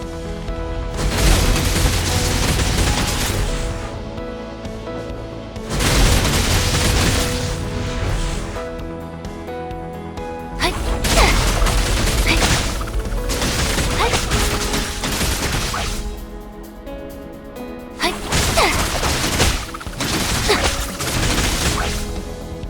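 The Blademaiden's Whirlwind Dance skill in a video game sounds as repeated bursts of dense, roaring whooshing and impacts. Loud flurries come in waves about every five seconds, with brief quieter gaps between them.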